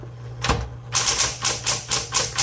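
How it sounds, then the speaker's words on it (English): Brisk keystrokes on a red 1960s Smith Corona Electra 120 electric typewriter, a single clack followed by a steady run of crisp, evenly spaced strikes, close and clear with no voices. "it takes very little effort to type on an electric typewriter"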